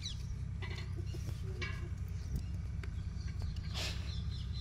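Chickens cluck faintly outdoors amid goats, with scattered short calls over a steady low rumble of background noise.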